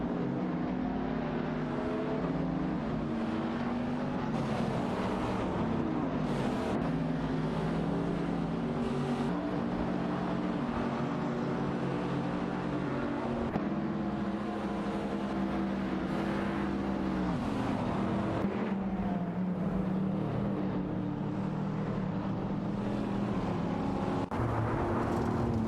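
Racing cars in a racing video game lap the track, engines droning continuously with pitch shifts through corners and passing whooshes, steady and unbroken.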